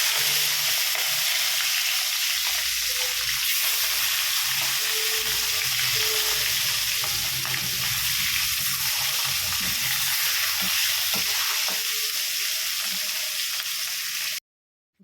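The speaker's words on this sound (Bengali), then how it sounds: "তো চলো এক এক করে মাছটা ভেজে নিই।" Fish pieces fry in hot oil in a home kitchen, giving a continuous crackling sizzle with occasional pops and stirring, steady and close before cutting off abruptly at the end.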